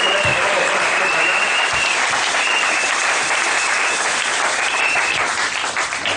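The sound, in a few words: congregation applauding for Brother Branham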